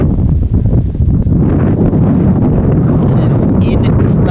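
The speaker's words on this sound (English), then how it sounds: "I've got wind gusts, folks, listed at nearly 40 miles per hour." Strong gusts of wind, near 40 miles per hour, buffet the microphone at an outdoor college softball field, a loud continuous roar and rumble with commentary talking over it.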